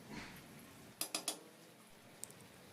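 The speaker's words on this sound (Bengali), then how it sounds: "একটু খুন্তি দিয়ে তলাটা নেড়ে দেবো যাতে তলায় ধরে না যায়" A spatula scrapes and taps against a pot of pilaf rice cooking on low heat: three quick metallic clinks close together, then a faint single tick over quiet background hiss.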